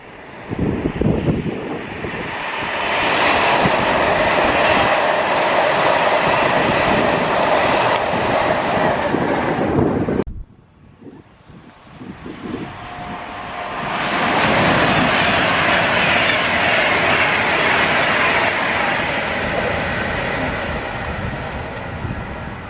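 A train passes on the railway near Rugeley, a loud sustained roar of rolling wagons and wheels that breaks off abruptly, then a second long rumbling pass builds and continues, with no talk.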